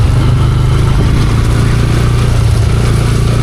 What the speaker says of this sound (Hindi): पीछे से गाड़ी आ रही है।